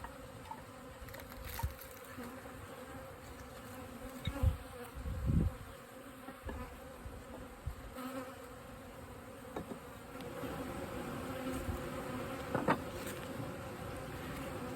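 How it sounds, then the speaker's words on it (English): Continuous buzzing of a large honey bee swarm fills the air, a dense droning hum with occasional louder passes as individual insects fly close by. "Actually, this is quite a big swarm."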